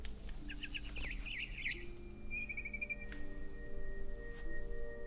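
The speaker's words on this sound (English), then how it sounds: "or do we continue following the bird?" A bird in What Remains of Edith Finch chirps in short repeated trills over a steady humming game ambience, then gives a second, fainter run of chirps.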